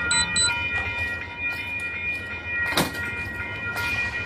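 An Amtrak passenger train sits stopped on railroad tracks, giving off a steady mechanical hum with sustained whining tones and a low rumble, broken by one short hissing burst near the middle. No one speaks.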